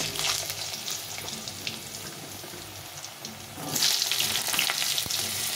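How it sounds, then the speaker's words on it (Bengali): Potato pieces frying in oil in a pan after a tempering of cumin, dried chilli and bay leaf, a steady close sizzle with stirring scrapes, swelling louder toward the end. "আলুটা একটু ভেজে নিয়ে তারপরে কচুটা দিয়ে দেবো"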